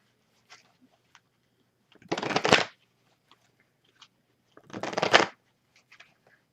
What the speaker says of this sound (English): I got too many cards from the last pull, so let me reshuffle.